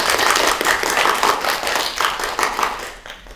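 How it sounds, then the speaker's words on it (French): Theatre audience applauding a performer after a parody number at an amateur theatre workshop show, dense steady clapping filling the whole stretch and thinning slightly at the end. "Je vous demande de l'applaudir bien fort, Kimberly!"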